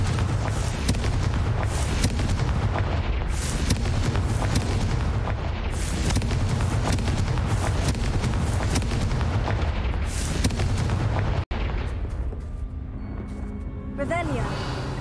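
Confringo fire-spell explosions in the video game Hogwarts Legacy boom in a dense, continuous roar of blasts that barely lets up, with a brief dropout near the end and voices mixed into the din.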